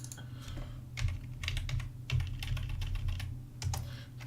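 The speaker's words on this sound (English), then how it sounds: "just forget to do that before I start typing in there" Rapid typing on a computer keyboard at a day-trading desk, a steady run of close, irregular key taps over a constant low hum, with no talking.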